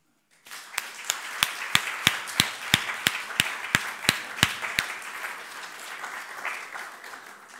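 An audience applauds inside a chapel at a summer school event, with steady clapping starting abruptly and holding for several seconds, a few sharp individual claps standing out above the crowd before it gently fades.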